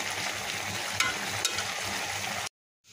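Mixed vegetables are stirred in a pan, giving a steady close sizzling and scraping with a couple of sharp clinks, before it cuts off abruptly near the end. No one speaks.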